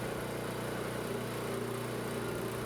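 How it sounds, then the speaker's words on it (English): A small utility engine run at full throttle for a speed adjustment: a steady, close mechanical drone with a constant low hum and an even buzz, holding without change throughout. "With the engine running and the throttle lever to full speed"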